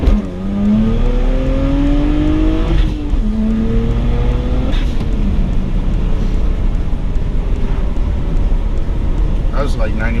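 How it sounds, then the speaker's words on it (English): A BMW 135i runs a rolling anti-lag at speed, its engine droning loudly with rising and falling pitch as it revs, punctuated by sharp pops and crackles, and a person talks over the roar. "Rolling anti-lag."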